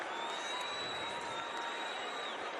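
Brewers fans cheer at a Cardinals versus Brewers baseball game, a steady, fairly faint crowd roar with applause filling the ballpark throughout.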